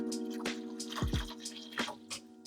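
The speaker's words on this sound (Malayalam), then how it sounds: "നമുക്ക് കുറച്ച് വെള്ളം ഒഴിച്ചു കൊടുക്കാം." Water poured into a pot of orange marmalade cooking from homegrown oranges, splashing in a few short gurgling bursts, close and moderately loud, with no talking.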